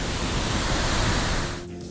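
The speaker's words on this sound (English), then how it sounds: "Look at this waterfall. Way too powerful." A powerful jungle waterfall in Tanzania roars as a dense, steady rush of falling water, loud and close, easing slightly toward the end.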